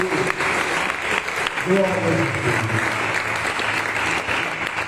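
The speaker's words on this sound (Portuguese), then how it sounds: "Aplausos ao Jesus." Church congregation applauding steadily throughout, a dense wash of clapping with a voice speaking over it near the middle.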